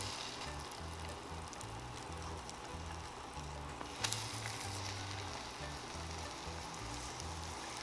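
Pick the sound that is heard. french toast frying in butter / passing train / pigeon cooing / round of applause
french toast frying in butter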